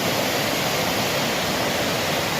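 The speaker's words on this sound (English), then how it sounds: "I don't even know if you can hear me because of that river, but wow. Look at this little waterfall." Rushing river water tumbling over a small waterfall on a wilderness hike, a loud, steady broadband roar that fills the whole stretch with no pauses and no voices.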